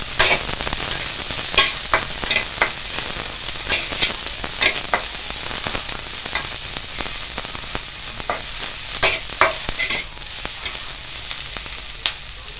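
Onions and ginger sautéing in a pan for a Filipino escabeche of matang baka fish, a steady loud sizzle broken by frequent sharp scrapes and clinks of a spatula stirring, with no talk.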